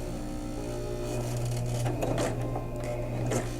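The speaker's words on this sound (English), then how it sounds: "as I'm sewing, the needle will go back and forth on top of the wire, and it'll stitch it onto the buckram" A sewing machine stitches wire onto a buckram hat, a steady close mechanical whir with soft rhythmic needle clatter running throughout, a few louder ticks near the end, with no talking.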